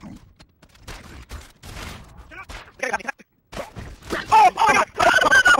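Gunfire bursts in a video game, short shots and volleys scattered through the clip, mixed with excited voices and game sounds that grow louder toward the end.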